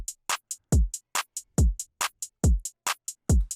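A programmed FL Studio drum pattern with punchy kicks, sharp claps and hi-hats, hitting in a tight, evenly spaced loop with clean gaps between the hits and no talking.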